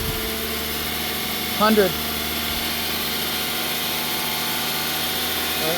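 A cold engine runs steadily at 2,500 RPM on a test stand during an oil pressure check, a continuous mid-pitched drone with a brief louder swell near the start and a voice speaking over it.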